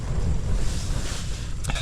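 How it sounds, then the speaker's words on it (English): Strong wind buffets a tent at a mountain campsite on Pen y Fan, a loud, constant rushing roar with heavy low rumbling gusts that hit the microphone. "Oh my goodness, it's windy."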